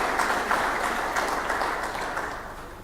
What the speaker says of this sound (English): So a big applause for all of you guys,